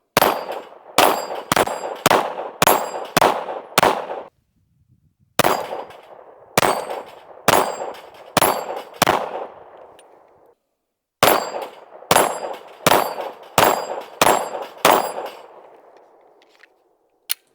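Gunshots hit steel plate rack targets at a shooting range, each shot a loud clanging ring that fades quickly. They come in three rapid strings of about five to six hits, separated by short pauses.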